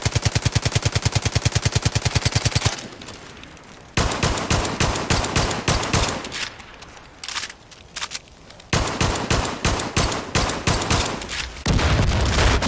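Rapid automatic gunfire at a car in the Division of Arms video game, with loud bursts of machine-gun shots coming in dense runs separated by brief pauses, close and continuous.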